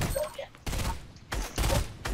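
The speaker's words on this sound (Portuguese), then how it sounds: "Tamo tomando bala do quanto é lado" Bursts of gunfire in a Fortnite match come in three loud volleys separated by short gaps, close and harsh.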